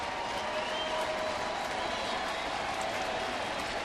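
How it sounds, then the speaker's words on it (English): A big crowd at a baseball stadium stands and applauds with two outs, a steady wash of clapping and cheering filling the whole stretch at even loudness. "Big crowd on their feet with 2 down."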